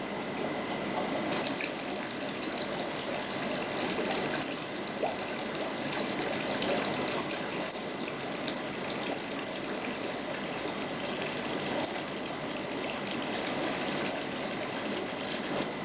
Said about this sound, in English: you've gone around your whole tank with the gravel cleaner